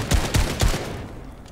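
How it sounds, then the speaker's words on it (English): Gunfire in the Fortnite Battle Royale video game, three quick booming shots in an even rhythm, close and loud, followed by a fading tail. "She's gonna try and shoot it down."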